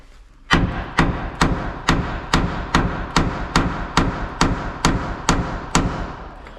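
Metal hammer blows strike a bolt on a car during mobile mechanic repair work: about a dozen loud, sharp, evenly spaced impacts, close up, with no voices.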